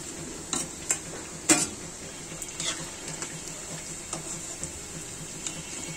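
Potato chops fry in hot oil in a home kitchen, giving a steady soft sizzle with occasional sharper pops and crackles scattered through.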